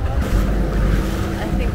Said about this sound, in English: We're taking a boat to another boat.